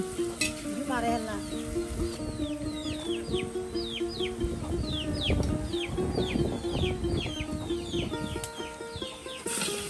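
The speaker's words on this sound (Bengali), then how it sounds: "এখন মশলাটা কষানো হচ্ছে হ্যাঁ যে মশলাকে কষিয়ে নেওয়া হচ্ছে" Spice paste frying in a pan for a pumpkin curry at an outdoor riverside kitchen, a steady sizzle under intermittent stirring, with chickens clucking and birds chirping nearby throughout.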